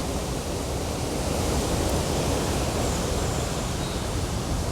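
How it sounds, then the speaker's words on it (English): Steady, full-bodied rush of water cascading over rocks through Black Rock Gorge, a dense continuous roar close by with no voices. "That water cascading away through there is phenomenal, it really is."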